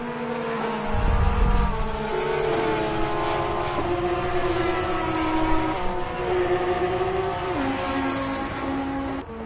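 Race car with a 4-litre flat-six engine at speed at Donington Park, a loud sustained engine note with shifting pitch and a brief low thump near the start, no talking.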